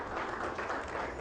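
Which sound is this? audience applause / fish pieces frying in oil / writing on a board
audience applause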